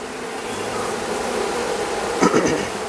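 Honey bees swarm at a beehive during a honey harvest, giving a steady, moderately loud droning buzz that swells briefly near the end.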